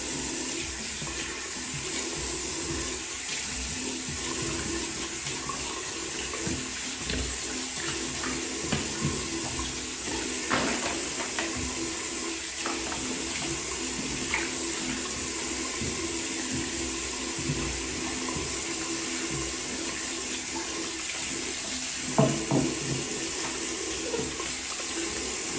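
Water runs steadily from a bathroom sink tap for a long stretch, a continuous close splashing hiss with a few small clinks and knocks, and no one speaking.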